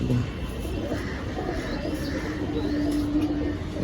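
Pigeons coo softly at a pigeon market amid a busy low murmur of crowd noise, with a few faint throaty calls rising out of the steady background.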